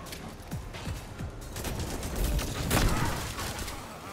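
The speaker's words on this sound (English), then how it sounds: "You're getting shot." Gunfire striking the player in Atomic Heart: a dense, continuous rattle of shots and impacts close by, building in loudness toward the middle and holding steady, with no talk.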